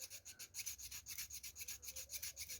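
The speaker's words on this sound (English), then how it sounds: "Then you can use this thing as a sanding stick." An emery board used as a sanding stick rasps back and forth over a very knotty piece of wood, a steady rhythmic scrubbing of quick close strokes with no talking.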